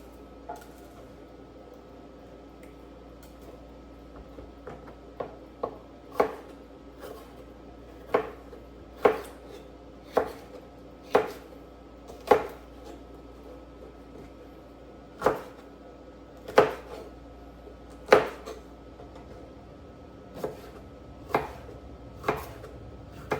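A knife slices a pepper on a cutting board, with crisp, evenly spaced chops at a steady, unhurried rhythm. The first cuts are soft and the later ones grow sharper, all close up against quiet surroundings.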